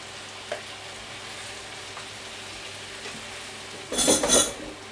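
Mushrooms tipped into a hot pan for a mushroom stroganoff with cream and mustard set off a sudden loud sizzle near the end, after a few seconds of quiet kitchen background with a faint clink early on.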